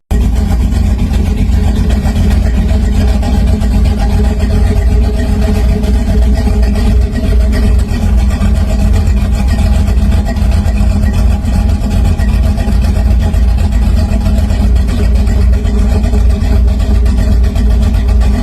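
A 1930 hot rod engine running, a loud, dense, continuous rumble with a steady low throb and no breaks, close by throughout.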